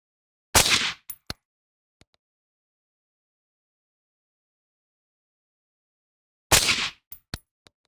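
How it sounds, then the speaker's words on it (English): Rifle fired while zeroing at a 50-yard range: two loud, sharp single shots several seconds apart, each followed by faint metallic pings, with silence between. "So we'll do another shot of 3 now, because we're back to the confirmation stage."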